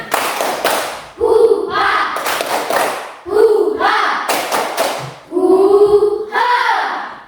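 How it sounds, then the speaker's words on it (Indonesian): A school class claps a patterned cheer in bursts of quick hand claps separated by brief pauses, loud and close, with voices chanting along between the clap runs. "tepuk semangat dulu, tepuk semangat"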